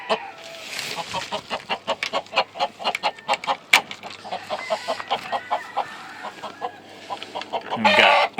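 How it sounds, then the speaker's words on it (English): An old rooster clucks in a steady run of short, close calls with a few sharper squawks, ending in a louder burst near the end; no talking. "One of my old roosters there."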